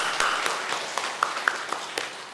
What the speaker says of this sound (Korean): 그럼 격려의 박수 한번 하겠습니다